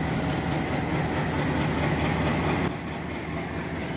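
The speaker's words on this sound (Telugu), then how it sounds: "సో ప్రజెంట్ ఈ ట్రైన్ వచ్చేసి గద్వాల్ రైల్వే స్టేషన్ డిపార్చ్ అవుతుంది." A train departing Gadwal railway station on the Kurnool–Gadwal line gives a steady rumble of rolling wheels and wagons, heard continuously and fairly close, easing slightly near the end, with no talking.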